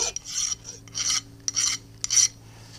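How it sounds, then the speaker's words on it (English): A hand file rasps across a foundry pattern part in four or five separate bursts of strokes, each lasting about half a second with brief pauses between, close and fairly quiet. "I think I might just try just filing on it, see how tough this will be to just file it."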